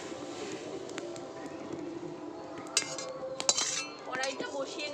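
Metal kitchen utensils and a strainer are handled while straining boiled water for homemade tomato sauce, giving scattered clinks and clatters that grow busier toward the end over quiet background noise.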